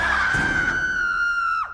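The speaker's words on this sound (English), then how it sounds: "Stock audio of people screaming." A single shrill, sustained scream, stock sound effect style, holds one piercing pitch for over a second before sliding down and cutting off, loud and alone.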